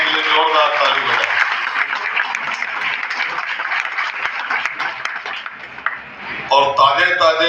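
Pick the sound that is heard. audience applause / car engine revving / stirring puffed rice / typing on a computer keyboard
audience applause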